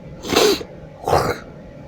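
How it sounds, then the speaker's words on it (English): A person clears their throat twice in quick, close succession, each a short rough rasp separated by a brief pause, with no talking. "So I'm having to clear my throat a lot."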